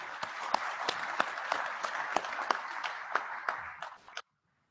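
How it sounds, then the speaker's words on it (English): An audience at an awards ceremony for fast-growing companies applauds with steady, crisp clapping and a few sharper claps standing out. It stops abruptly near the end, leaving silence. "please give them a round of applause"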